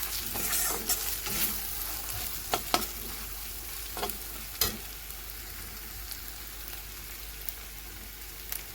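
Spices sauté in a pan with chili added, giving a faint steady sizzle punctuated by light scraping and stirring clicks from a spatula, with no talking.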